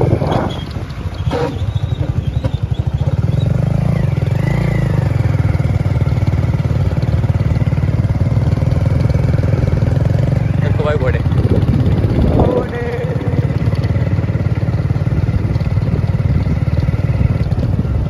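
A motorcycle ride in Rajasthan, with a steady close engine drone and wind rush running unbroken for the whole stretch and brief voices over it.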